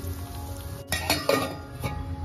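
Okra sizzles as it fries in a pan, a soft steady crackle with faint clinks and stirring scrapes.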